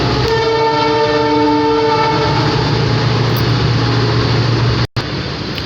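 A train roars past close by as a long steady horn blares over the rumble, followed by a brief cutoff and then continuing noise.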